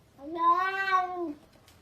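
A cat outside a door gives one drawn-out, close meow lasting about a second, clear and alone with no talking.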